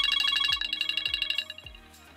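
An iPhone's Beacon ringtone preview plays alone, a bright repeating melodic chime with short rising tones, then a few sparser notes before trailing off.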